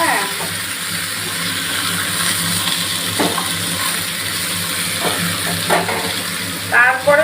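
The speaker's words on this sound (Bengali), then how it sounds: "প্রথমে অল্প সবজি দিয়ে আমি নেড়ে নিলাম।" Vegetables frying in a pan and being stirred, a steady close sizzle with scraping stir strokes now and then and a brief bright clatter near the end; no talking.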